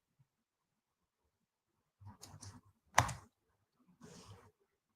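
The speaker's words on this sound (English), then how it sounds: "I'm just typing in true." Keys clatter on a computer keyboard in a few short bursts of typing separated by silent pauses, one sharper clack standing out, close and fairly quiet.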